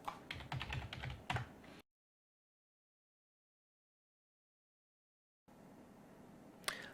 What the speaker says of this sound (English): and we'll type this query.